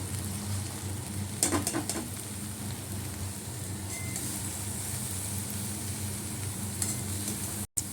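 Onion stalks sizzle and fry in a pan with prawns, stirred with a few scraping strokes near the start over a steady, close crackle.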